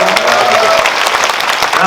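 Audience at a Lotte Cinema World Tower post-screening talk for the film 'The Juror' applauds in a dense, steady burst, with a voice speaking over the clapping.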